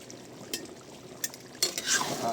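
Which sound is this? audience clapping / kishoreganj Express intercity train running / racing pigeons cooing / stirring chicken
stirring chicken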